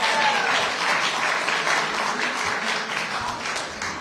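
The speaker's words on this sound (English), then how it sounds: "I'm sure will elicit some enthusiasm and applause" Sustained, dense applause from an audience at a political party's fall evening reception, steady and full throughout before tapering slightly, with no talking over it.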